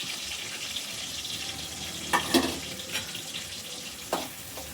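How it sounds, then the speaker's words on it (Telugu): Onions frying in hot oil give a continuous soft sizzle, punctuated by a few louder scraping stirs partway through, with no voices. "మన ఆయిల్ అయితే వేడి అయిపోయింది. ఇప్పుడు ఆనియన్స్ వేసేస్తున్నా."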